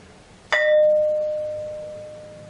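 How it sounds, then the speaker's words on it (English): A ringing stone is struck once, giving a sharp clang followed by a clear, sustained bell-like tone that slowly decays over about two seconds in a quiet setting. "this thing really rings like a bell and it reverberates for quite a long time"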